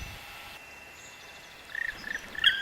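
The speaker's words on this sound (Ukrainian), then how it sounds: "Вже можна зустріти і квакшу." A tree frog calls in a spring forest, a faint rapid trilling burst that rises late against a quiet, still background.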